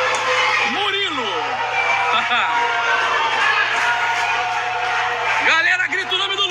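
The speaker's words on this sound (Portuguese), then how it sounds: "Galera, grita o nome do Lucas." A crowd cheers and shouts at an under-12 youth football match during a penalty between Olaria and Canto do Rio, a dense loud roar with whoops rising and falling under an excited announcer's voice.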